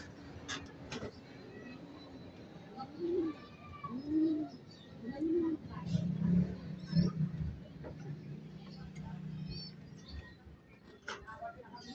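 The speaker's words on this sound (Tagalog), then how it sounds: "Yan mga kaibon, no?" Stock pigeons at a breeder's loft give soft, repeated coos, a few low rolling calls in sequence against quiet background noise and faint voices.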